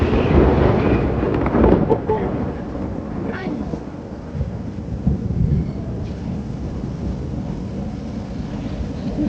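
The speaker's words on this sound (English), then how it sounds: "there's still thunder going on" Thunder rumbles during a storm at an amusement park, loudest at the start and then rolling on more softly, with wind buffeting and faint voices nearby.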